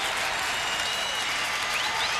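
A large Astros baseball crowd of about 36,000 claps and cheers at Minute Maid Park in Houston, a dense, continuous wash of applause from a distance, with no clear voices on top.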